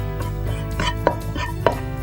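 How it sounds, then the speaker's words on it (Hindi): Cumin seeds crackle as they roast in a hot pan, with a dense, continuous sizzle under several sharp pops and ticks spaced through the short clip. "क्रैकलिंग आवाज़ जब ज़ीरे की आने लगेगी"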